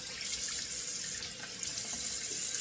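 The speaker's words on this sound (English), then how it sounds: "So run the cold water." Cold water runs steadily from a bathroom tap into a sink for rinsing during a wet shave, a continuous close splashing hiss with no talk.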